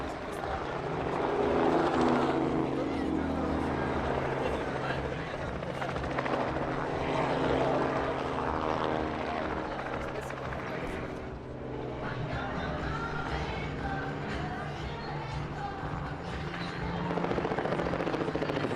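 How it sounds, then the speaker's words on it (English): A Robinson R44 four-seat helicopter flies overhead with a steady, loud rotor thrum and engine whine that swells and fades slightly as it passes. "a Robinson R-44 helicopter"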